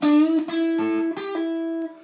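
An electric guitar plays a short blues lick of a few sustained notes, one note on the third string bending upward in pitch before ringing out.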